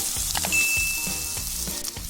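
Masala of Kashmiri red chilli powder and salt sizzling in a pan as water goes in, a steady close hiss with soft scraping stirs and a few light clinks throughout.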